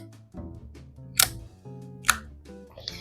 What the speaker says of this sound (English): the only thing about this camera that like I really don't like is the shutter sound.